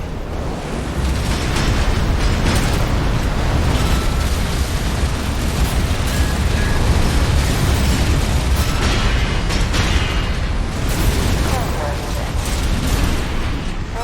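Explosions from Armored Core 6 Fires of Rubicon, a dense, continuous roar of blasts and booming bursts during mech combat, loud and sustained throughout with faint game voices underneath.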